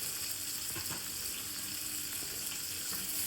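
Prawns sizzle and fry steadily in a hot kadai, a continuous close, bright crackle with faint stirring and no voices.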